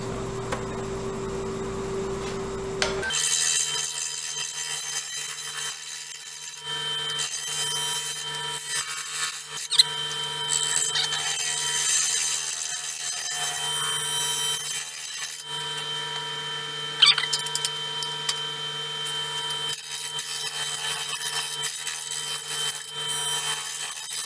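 A lathe spins a wobbling workpiece as it is smoothed, a loud, steady broadband whir and scrape running continuously after a quieter start, with a couple of brief sharper bumps midway.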